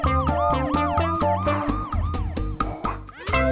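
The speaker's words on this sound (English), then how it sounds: "Ambulance." An ambulance siren wails loudly and continuously, its pitch sweeping up and down in fast repeating cycles.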